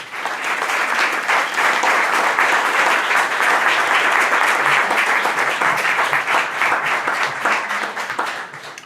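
Sustained, full applause from an audience at a book commemoration event, steady and loud before tapering slightly at the end.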